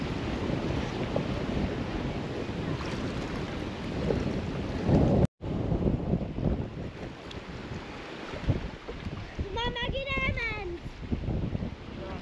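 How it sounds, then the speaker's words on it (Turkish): Strong wind roars steadily across the microphone on a lakeside campsite pier at Hopfensee, with a low rumbling buffet throughout, broken by a brief dropout near the middle; a faint whistling tone appears later. "Sıkı rüzgar var."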